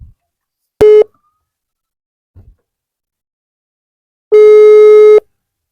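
Telephone ringback tone for an unanswered call, two loud steady electronic tones, one short and one longer, separated by a long silence, with a faint click between.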